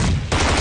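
A short, loud burst of automatic gunfire in a shooter game, close and continuous rapid shots filling the whole brief moment with no voices.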